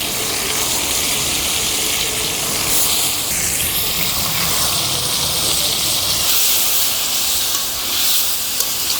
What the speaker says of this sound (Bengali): এখন আমি সবজিগুলো দিয়ে দিচ্ছি।